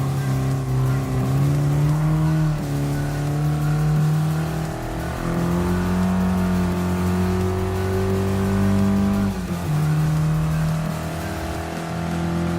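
An Abarth 500 small Italian compact car racing in Gran Turismo Sport, its engine holding a steady high whine with pitch rising and dipping through gear changes and a final turn, loud and continuous.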